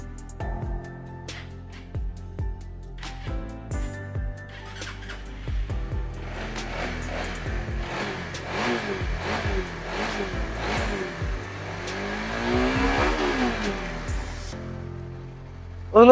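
Used Honda CBR motorcycle with a replaced throttle cable, its smooth engine blipped through a series of revs, rising and falling pitch sweeps building to longer, louder revs near the end, recorded close with no talk.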